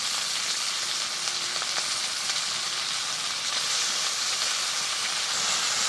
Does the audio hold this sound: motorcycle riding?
no